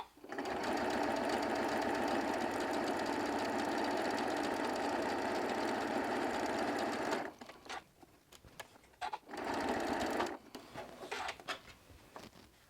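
A sewing machine with a quarter-inch foot stitches fabric strips for strip-pieced appliqué, running loud and steady for about seven seconds, then stopping and restarting in short bursts with small handling noises between.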